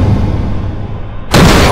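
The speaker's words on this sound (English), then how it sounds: "There is an explosion." An explosion in an animated skibidi toilet episode hits as a sudden loud broadband blast cutting through steady background noise and stays loud to the end of the clip.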